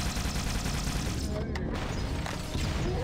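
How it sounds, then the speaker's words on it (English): Explosions and gunfire from the video game Halo: Combat Evolved in co-op play, a dense continuous barrage of blasts and shots with a loud burst near the middle, mixed with voices talking over the game. "Explosions."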